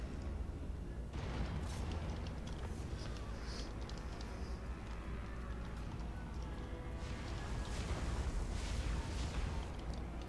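Towers fire on a Skaven defense in the Total War: Warhammer 2 video game, producing repeated booming shots and rumbling impacts over a constant low battle roar.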